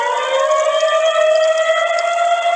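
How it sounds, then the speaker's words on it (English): Dallas outdoor emergency warning sirens blaring, a loud steady wailing civil-defense tone with layered harmonics that holds without a break across the clip. "All 156 sirens in Dallas blared intermittently for more than an hour and a half."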